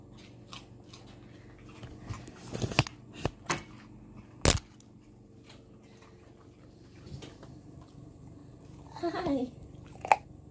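Crisp, irregular crunching bites of a pet rabbit chewing carrot, a few louder snaps standing out over a quiet, low background hum.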